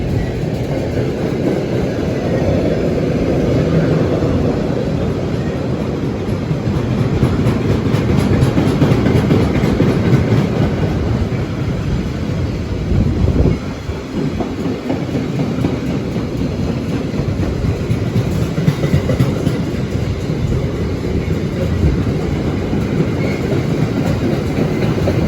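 A Class 756 train runs through Ashford International station with a loud, continuous rumble and rail noise lasting the whole stretch. Faint clickety-clack sounds over the wheels, with a brief dip partway through.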